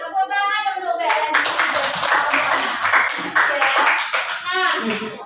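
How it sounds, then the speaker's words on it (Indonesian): Classroom applause for a student, a crowd of children clapping steadily and loudly for several seconds, with young voices chattering at the start and end. "Tepuk tangan untuk BLN."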